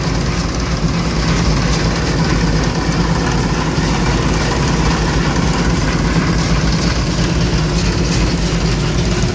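A Bizon combine harvester's engine runs steadily during a barley harvest, a loud, close, constant heavy diesel drone with rattling mechanical texture and no talk.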